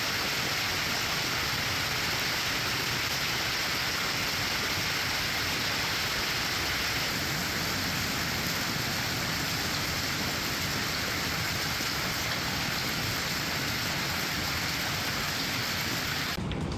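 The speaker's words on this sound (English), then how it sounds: "Some impressive hail video out of Denver from yesterday." A heavy hailstorm pounds down in Denver, a dense, steady roar of ice and rain striking surfaces with rumbling thunder underneath, loud and unbroken throughout before cutting off abruptly at the end.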